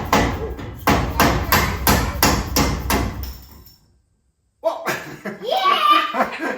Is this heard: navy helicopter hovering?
no